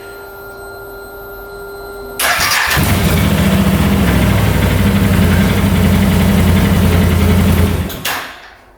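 An ATV engine cranks and catches at about two seconds, then runs steadily and loud for several seconds before shutting off, after a quiet lead-in with faint tonal hum.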